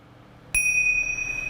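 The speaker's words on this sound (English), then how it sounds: "I'll finish the relaxation by ringing my little Tim Shaws. These are my little bells" A small tingsha bell is struck once, giving a bright, clear ring that rings on and slowly fades in a quiet room.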